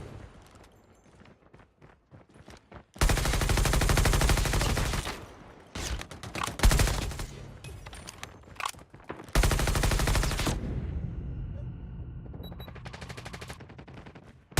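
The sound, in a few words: gunfire in video game Call of Duty Mobile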